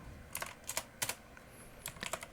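Quick, close computer keyboard presses during game editing, a handful of sharp clicks grouped in two short bursts over a faint steady background hum.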